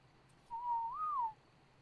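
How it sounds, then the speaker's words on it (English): A single clear whistled note during a survival-game building session, held steady for about a second, then sliding up slightly and falling away, alone over quiet background. "I did not mean to whistle"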